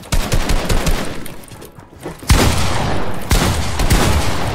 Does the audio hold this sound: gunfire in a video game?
yes